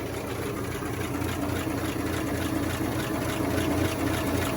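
A 1961 Chevy C10 pickup truck engine idles steadily at close range, a continuous low rumble with no talking.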